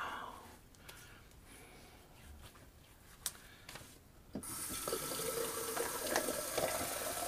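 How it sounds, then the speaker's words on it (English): Tap water runs to wet an Omega alum stick during a wet shave, starting as faint trickles and then becoming a steady, close rushing stream. "I'm just going to wet the Alum stick"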